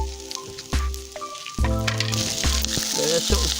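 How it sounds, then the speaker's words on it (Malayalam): Salted onions sauté in a pan for a Kerala-style squid roast, crackling and sizzling close up beneath tonal music, with the frying growing busier partway through. "അങ്ങനെ സവാളയൊക്കെ നല്ലപോലെ ഒന്ന് വഴട്ടി ഒരു ചുമന്ന കളറിലേക്ക് അതൊന്ന് വഴണ്ട് വരണം."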